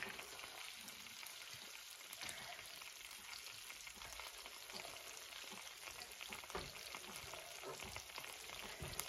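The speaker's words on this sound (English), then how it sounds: "I'm going to fry all of this meat up" Quiet, steady sizzling and crackling of meat frying in a pan, a constant spattering hiss with occasional louder pops, heard from close range.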